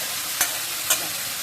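Leafy greens frying in a heavy wok, a steady soft sizzle with two brief scraping stirs of the spatula, close and quiet.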